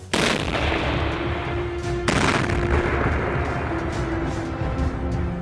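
Explosions in a minefield: a sudden loud blast opens the clip, a second heavy boom follows about two seconds later, and a dense rumbling roar continues between them.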